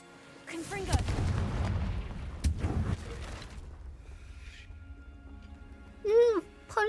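Fire spell blasts burst in Hogwarts Legacy, a loud broadband boom around the first second followed by another sharp hit near two and a half seconds, with game effects and a brief voice near the end.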